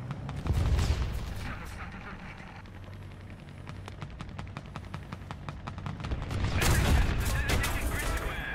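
Gunfire aimed at the player's wheeled tank in a tank video game, heard as a thick rumble of distant shots and impacts over a low engine drone, swelling louder toward the end, with a voice speaking over it.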